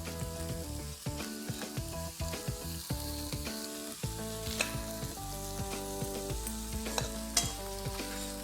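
Stir-fried prawn noodles tossed in a hot pan with two forks: a loud continuous sizzle with repeated clinks and scrapes of the forks, no talking.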